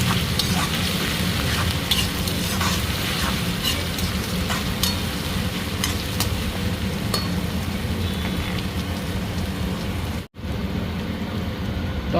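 Ginger garlic paste frying in a pan, a dense, loud, rain-like sizzle crackling steadily and close for the whole stretch, briefly cut near the end, with no voices.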